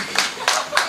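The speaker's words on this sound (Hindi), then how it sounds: "अगर अच्छा लगा तो अब तालियां बजाएंगे तो ठीक है" An audience at a poetry recital claps in three short bursts, close and sharp, with brief pauses between.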